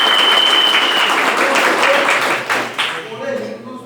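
Loud, steady clapping from an audience at an event program, fading and thinning toward the end as a few claps trail off.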